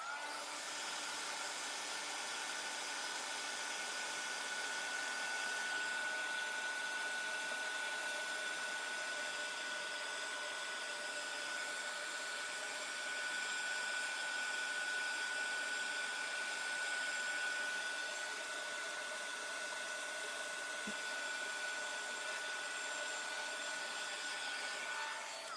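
A heat drying tool blows on an inked paper card, a steady high whirring hum that runs unbroken for about 25 seconds with no talking.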